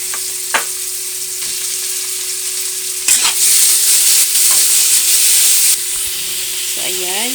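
Pork meat sautés in a pan for pansit bihon, giving a loud, close, continuous sizzle that flares into a stronger hiss midway, with a brief stirring clatter and a steady low hum underneath.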